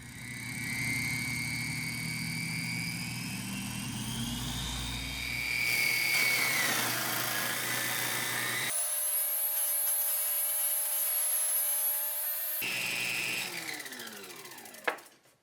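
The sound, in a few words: saw disc mounted on Onefinity CNC cutting aluminum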